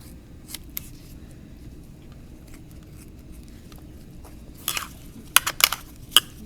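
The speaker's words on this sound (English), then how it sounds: "Let me get her cut open." Scissors snip open a preserved female rat during a dissection: a few soft clicks at first, then a cluster of sharper, close snips in the last two seconds over a quiet background.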